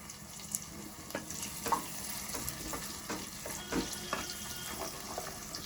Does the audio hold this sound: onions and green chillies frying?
yes